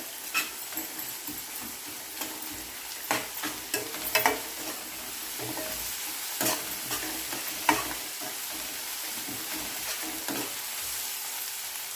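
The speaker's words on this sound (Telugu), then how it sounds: "ఇప్పుడు ఇందులో అల్లం వెల్లుల్లి పేస్ట్ వేసుకొని పచ్చివాసన పోయేంత వరకు కలుపుకోవాలి" Ginger garlic paste is stirred in a frying pan with a spoon, a low steady sizzle underneath irregular scraping and clattering knocks against the metal pan, close and without speech.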